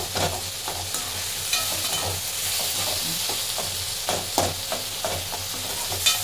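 Tomatoes fry in a pan under a steady, loud sizzle and hiss, with a spoon scraping and stirring in repeated strokes close by.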